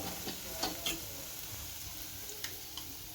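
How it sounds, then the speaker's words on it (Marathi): Onion masala gently sizzling in oil in a pan while a spoon stirs it, soft steady frying hiss with a few light clicks and scrapes of the spoon, quiet and close. "मसाला परतून घेतलाय आणि मसाल्याला तेल पण सुटलंय"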